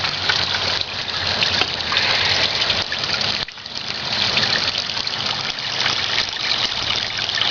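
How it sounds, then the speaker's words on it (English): Water from a hose runs through a Miller tabletop drop-trap sluice with a constant rushing, splashing flow. It stays steady and close, with a brief dip midway and no talk. "Would you give me a little more water? Turn the hose up a bit."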